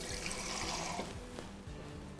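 Water is poured into a full-fat coconut milk curry of cauliflower, potato and chickpea in a cookery school kitchen, a short close splashing pour that fades after about a second.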